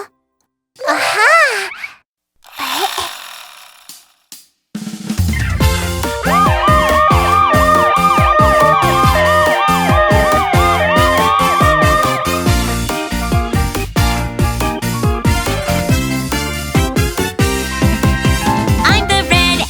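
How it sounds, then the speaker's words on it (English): A red ambulance in a children's cartoon song sounds its wailing, rising and falling siren over loud, bouncy music, after a few shouted cries for help. "I'm the red ambulance."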